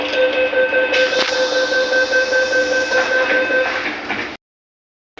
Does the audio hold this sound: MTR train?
yes